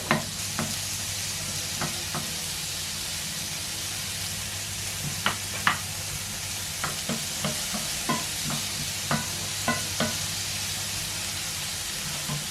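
Chicken pieces frying in a pan with ginger and garlic, a steady close sizzle broken by scattered sharp pops and clicks of stirring, no voices.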